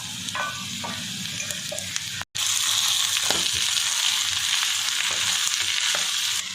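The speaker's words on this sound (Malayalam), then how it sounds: "നമുക്കിത് തുറന്ന് ഇളക്കി കൊടുക്കാം." A beef coconut milk curry with green chillies sizzles in a pan while a spoon stirs it, scraping and bubbling close up for several seconds, with a brief gap partway through.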